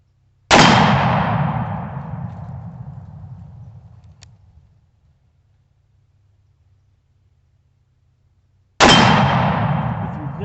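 Two loud, sharp shots from a 454 Casull revolver firing hot handloaded rounds, each a cracking blast with a long ringing decay, separated by several seconds of near silence outdoors.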